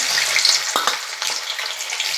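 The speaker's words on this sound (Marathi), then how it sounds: "आता हे चिकन त्याच्यात टाकते मी असं" Loud, steady sizzling of chicken frying in a wok, with a couple of sharp stirring scrapes partway through.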